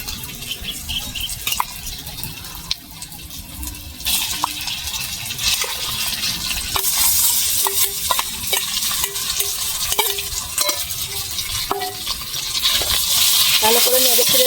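Mashed potato being stirred into lightly fried onions in a pan, with continuous scraping and clattering spoon strokes over a steady sizzle that grows louder toward the end, heard close with no talking.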